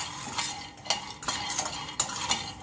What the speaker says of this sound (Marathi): त्याच पॅन मध्ये मी हे शेंगदाणे टाकते